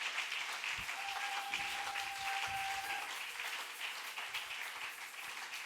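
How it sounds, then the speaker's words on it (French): A church congregation at Sunday worship applauding together, a steady wash of many hands clapping heard from a distance, fairly faint, with a brief sustained tone sounding under it. "on acclame pour Dieu"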